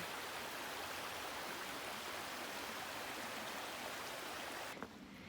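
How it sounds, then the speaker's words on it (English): A small, gentle stream on the Appalachian Trail flows with a steady, close, even rush of water that continues unbroken, with a faint knock near the end and no talking. "I'm probably gonna wait for him at this little cute stream here."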